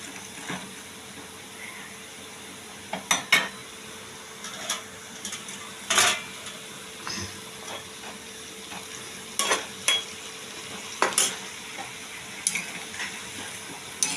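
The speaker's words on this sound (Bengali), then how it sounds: "একটু ফুটো ফুটি হচ্ছে" Soybean kofta curry simmering in a pan, a low steady bubbling and faint hiss broken by occasional louder clinks and stirring scrapes, close by with no voices.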